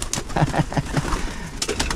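Pigeons coo inside a pigeon loft, a short run of soft, low, throaty rhythmic coos repeated close by, with faint rustling and no talk.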